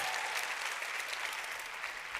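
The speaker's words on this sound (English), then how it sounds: "give yourself a round of applause" Faint, distant audience applause at a conference talk, an even wash of many hands clapping with no clear pauses, low in level throughout.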